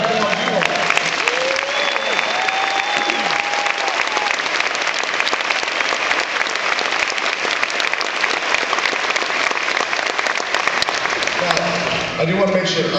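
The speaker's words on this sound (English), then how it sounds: "So I applaud you all." Sustained loud applause from a large crowd cheering a university band at a band extravaganza, dense continuous clapping with some shouts, holding steady before easing off at the end.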